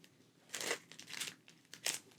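Thin plastic packaging wrapped around a new item crinkles softly up close in several short bursts as it is handled and opened, with quiet pauses between and no one talking.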